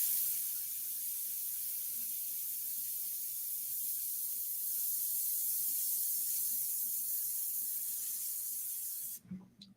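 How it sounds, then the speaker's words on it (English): An airbrush sprays India ink in a continuous soft, airy hiss that holds steady close to the microphone before cutting off abruptly near the end. "distance is the best tool to lighten up the values as you're spraying"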